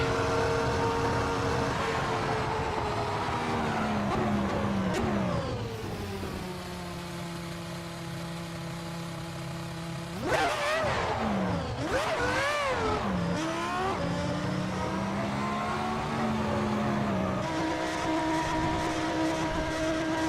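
Ferrari F2004 Formula One engine in the racing game Assetto Corsa, a loud high-revving whine that climbs and drops through gear changes, with sharp rev sweeps midway, heard continuously and alone.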